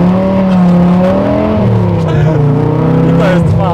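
A Dodge Viper's V10 engine revs loud and close while the car is driving, its steady growl rising and falling under continuous talk from people in the cabin.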